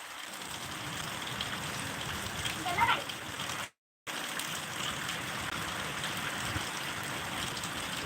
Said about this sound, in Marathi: हवा आणि पाऊस बघू शकता तुम्ही हवेचा वेग आणि पावसाचा वेगसुद्धा आहे